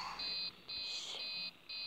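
A repeating electronic alarm from Five Nights at Freddy's 3 beeps in steady on-off pulses, each lasting about half a second, fairly faint and steady with no talk over it.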